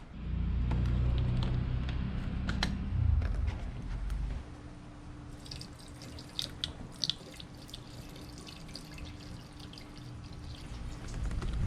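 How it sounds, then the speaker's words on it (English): Water poured into a car radiator, a steady close gurgling pour lasting a few seconds, then quieter drips and small splashes. "I can start putting water into the radiator, and once water starts spilling out of there, I can put that plug in and continue filling"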